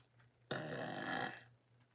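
A single long, loud burp starts abruptly and rings on for about a second before trailing off, alone against a quiet room hum.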